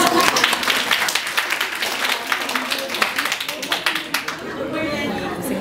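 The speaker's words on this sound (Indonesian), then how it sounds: "congratulations, tepuk tangan dong" Audience at a corporate talk session breaks into clapping, a dense patter of hands mixed with crowd chatter, loud and close, thinning out toward the end.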